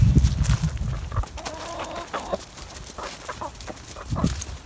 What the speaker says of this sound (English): Being swarmed by chickens.